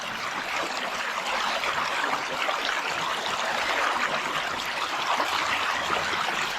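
A mountain stream rushes and gurgles continuously close by while a water filter bag is filled in it.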